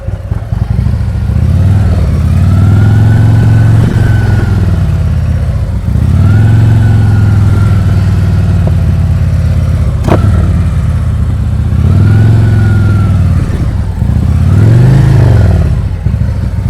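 A motorcycle engine hums steadily and close, rising and falling in gentle revs as the rider creeps through slow-speed practice around cones, with a sharp click partway through.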